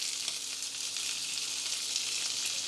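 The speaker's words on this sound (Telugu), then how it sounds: "ఈ కరివేపాకుని వేయించేటప్పుడు" Washed, dried curry leaves fry in hot oil in a pan on a low flame, making a loud, continuous close-up hiss and crackle with no voices.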